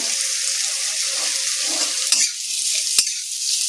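Washed prawns added to hot oil in a pan over medium heat, a steady bright sizzle of frying that runs throughout, with a couple of sharp clinks from a utensil near the end.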